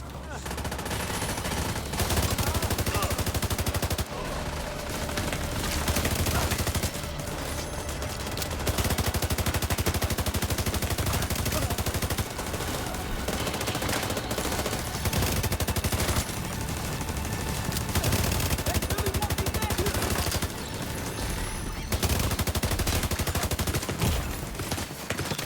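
Sustained gunfire from The Division 2 runs almost continuously at a steady, fairly loud level, with dense rattling bursts. A faint voice is heard now and then.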